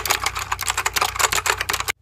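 Rapid typing on a Matias Quiet Pro keyboard with dampened Alps switches gives a steady, close, slightly softened clatter of keystrokes over a faint low hum, stopping abruptly at the end with no speech.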